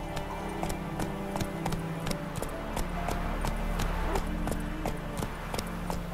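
Roach, a horse in The Witcher 3 video game, gallops with a steady, rapid clip-clop of hooves under a busy game ambience, the hoofbeats fairly close and continuous.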